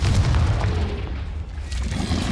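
A Confringo spell explodes in Hogwarts Legacy, producing a loud, heavy booming blast with deep rumble that swells, dips briefly, then surges again across a couple of seconds.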